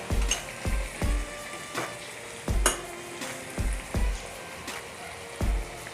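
Homemade masala tipped into a hot pan for misal pav, sizzling loudly with a repeated rhythm of stirring strokes and scraping, close and alone.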